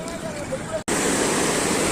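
Musi river floodwater pouring past the bridge at Pillaipalli near Hyderabad makes a dense, steady roar of rushing water, broken by one brief dropout partway through, then continuing just as loudly.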